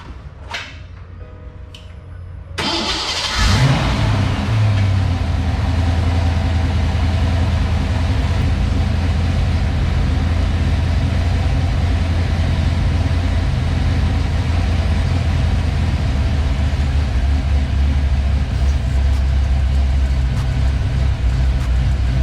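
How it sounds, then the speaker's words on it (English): A car with push-button start cranks and fires after a couple of quiet seconds, then settles into a loud, steady idle that drones on unchanged. "So we got the car idling."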